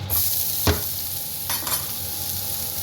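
Ginger, garlic and green chili sauté in a pan under a continuous soft sizzle, broken by a couple of brief scraping stirs, heard up close.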